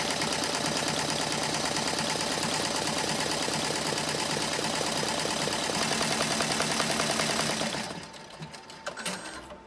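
An Avance 1501C embroidery machine stitches 3D foam embroidery in a fast, steady, loud mechanical chatter that runs continuously, then winds down and stops near the end, leaving a few soft clunks.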